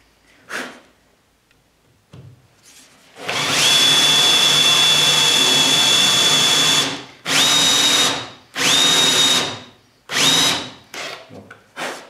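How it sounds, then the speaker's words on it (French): A power drill countersinks holes in wood for a reinforcing shelf with VB brackets. One long steady whine runs several seconds, then a few shorter bursts follow, close and loud with quiet gaps between. "Donc on fraise avec une fraise assistante, bien sûr."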